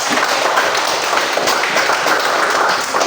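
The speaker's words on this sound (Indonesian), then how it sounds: "tepuk tangan untuk kelompok 2" Classroom applause for a student discussion group in an Islamic religious education lesson, a dense, steady patter of many hands clapping, close and loud, without talk.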